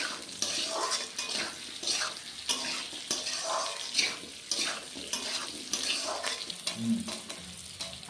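Raw fish pieces, katla, fry in oil with an uneven crackling sizzle, fairly quiet, broken by light clinks and stirring noises from the pan.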